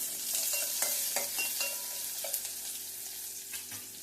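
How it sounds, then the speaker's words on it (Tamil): Crushed garlic, mustard seeds, cumin and fenugreek tempering in hot oil on a medium flame for egg kara kulambu, a bright continuous sizzle with scattered pops and crackles, close and steady. "கடுகு, கொஞ்சமாக சீரகம், கொஞ்சமாக வெந்தயம் இதெல்லாம் போட்டு தாளிக்கணும்"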